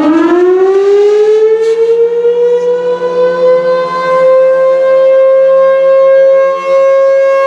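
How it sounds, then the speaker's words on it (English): A Union Pacific DDA40X locomotive warning siren winds up and holds a loud, steady wailing tone with rich harmonics, sounding alone for the whole stretch. "These sirens were used to warn track maintenance personnel"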